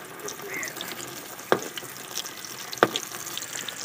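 Flour-coated chicken legs fry in oil, KFC style, a steady crackling sizzle with two sharp utensil knocks, close and moderately loud, no talking.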